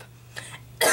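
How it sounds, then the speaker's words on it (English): A single short cough bursts out at the very end after a quiet moment with a low hum. "I'm sorry, I keep on coughing."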